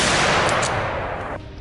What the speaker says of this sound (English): a rapid burst of gunfire erupts